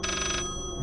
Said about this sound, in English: Who the hell put a phone all the way up here?